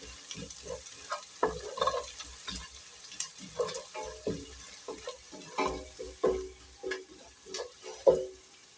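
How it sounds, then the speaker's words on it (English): Garlic and ginger fry in a sufuria while being stirred constantly to keep them from sticking. A soft sizzle runs under repeated scraping and knocking strokes that come in an irregular rhythm, close by. "for the garlic and ginger, if you don't stir them well, they will stick on your sufuria"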